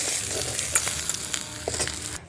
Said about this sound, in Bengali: মাথাটা খুব ভালোভাবে ভেজে নিয়েছি